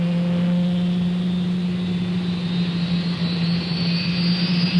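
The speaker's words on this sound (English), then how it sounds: "Switching to automatic start. Starter engaged. Rotor RPM increasing." A QH-50 DASH drone helicopter's engine runs on a ship's deck as a loud, steady turbine whine over a strong low hum, with a faint pitch rise as the rotor spins up.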